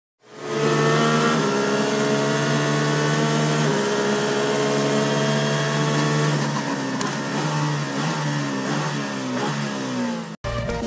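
Yellow and green toy cars race, giving a loud, steady motorized whine with layered tones that starts abruptly and holds for about ten seconds before cutting off.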